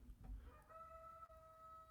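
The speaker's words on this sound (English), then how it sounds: "oh, there's the rooster." A rooster crows faintly in the distance, a single drawn-out call rising over a low background hum, quiet and alone.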